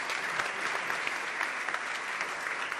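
A hall audience applauds steadily and evenly at an awards ceremony as officials come forward to present a medal, dense clapping with no break and no speech over it.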